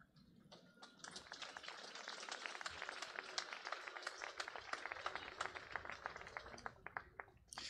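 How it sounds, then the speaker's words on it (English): An audience claps at a Triangle Factory Fire remembrance event, a steady wash of many hands that is fairly faint and continues for several seconds without talk over it. "Let's give another round of applause for the young people."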